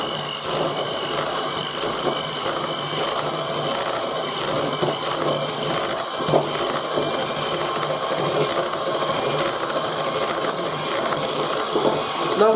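An electric mixer on its first speed whips mascarpone with liquid cream into a chantilly topping for a triangle cake, giving a steady, loud, unbroken whir with faint scraping and no talking.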